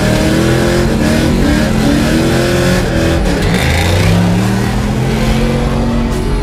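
A Nissan S13 drift car idling as its engine warms up, a loud, steady, close engine drone with slowly shifting tones and no talking.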